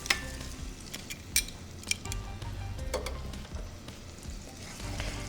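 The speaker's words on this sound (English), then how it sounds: "Add our onions to the pan, our remaining butter, and then we are going to just let these cook" Onions sizzle in butter in a pan for shrimp linguine, a steady close crackling hiss with brief clinks and scrapes of a utensil stirring, no voices.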